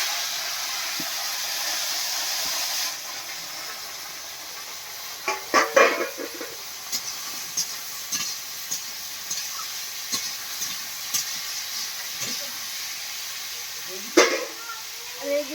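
Raw banana, potato and bitter gourd hit hot oil with panch phoron for shukto, setting off a loud, sustained sizzle broken by utensil clatter and a voice.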